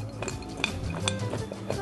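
Vegetables are turned on a strongly preheated grill pan, giving busy scraping and clinking of utensils against the pan over a soft sizzle, close and continuous, with no talking.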